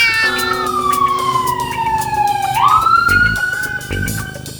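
A police siren wails and sweeps through its pitch cycle while a cat meows over it, both loud and close, with no talking.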